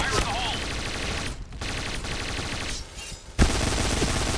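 MP9 submachine gun firing in the video game Point Blank, rapid automatic bursts at close range broken by two short pauses, with a sharp bang near the end.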